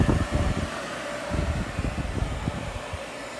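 A Santa Fe dehumidifier hums steadily with its compressor running, a broad, even mechanical whir and airflow noise with a few low knocks and thumps underneath.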